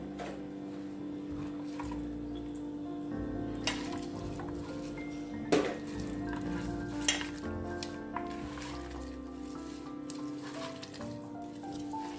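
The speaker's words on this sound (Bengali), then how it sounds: "আলুগুলি দিয়ে দিচ্ছি খুব সুন্দর করে মাখাতে হবে একদম ডোলে ডোলে" Potatoes stirred and tossed in a pan with fish and greens for a Bengali chorchori, a steady sizzle under repeated scraping and clinking of the spoon against the metal pan, with a few sharper knocks.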